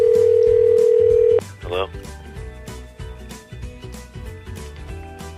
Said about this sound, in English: Oh, now it's ringing.